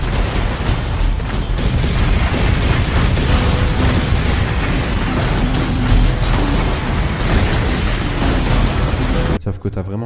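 Garrison cannons fire at a giant titan in an Attack on Titan anime episode: a loud, dense barrage of booms and blasts that runs almost without pause, cutting off abruptly near the end.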